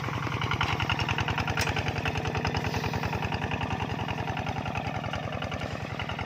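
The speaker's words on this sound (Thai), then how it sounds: "รถไถนาเดินตามครับ หรือว่า รถดีแท็กนะครับ" A Kubota walking tractor's small single-cylinder engine chugs steadily in a fast, even rhythm, loud and close, running on without pause.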